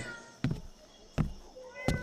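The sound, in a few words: cat meowing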